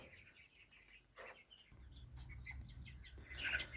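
Hens cluck and squawk in agitation as one is caught, with a burst of flapping and scuffling noise building toward the end, fairly close.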